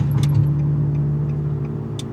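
A tuned Nissan 350Z accelerating in first gear at part throttle, a steady close engine drone with a brief rise early on and faint rattles, no one speaking.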